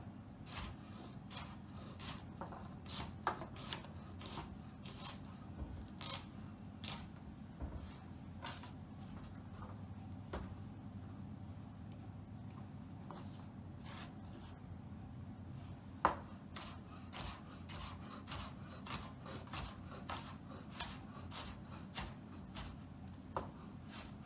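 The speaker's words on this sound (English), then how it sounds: "Now we're gonna just roughly chop it" Knife roughly chopping a vegetable on a board for a plant-based Mexican dish, a faint, irregular series of short taps and knocks spread across the span, with no talking over it.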